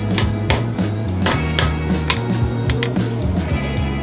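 A hammer strikes an 11 die, held against the edge of a hard surface, to knock out a contact from a Denso Toyota pickup starter. Close, sharp metallic clinks ring out in an irregular series of about a dozen hits.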